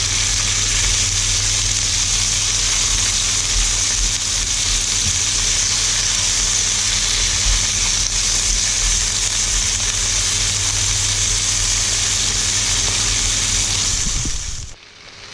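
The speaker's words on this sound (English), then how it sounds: "just while that's sauteing there, like I say, a really quick saute" Beef rib fillet sautéing in a hot pan, a loud, steady close-up sizzle with a low hum underneath, continuous until it cuts off abruptly at the end.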